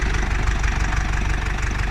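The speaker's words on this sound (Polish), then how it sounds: "Pod maską znajdziemy silnik diesla o pojemności 2 litrów i mocy 113 koni" A 2-litre, 113 hp CRDi diesel engine of a 2004 Hyundai Tucson idling close by, a steady low rumble with a faint rhythmic knock running throughout.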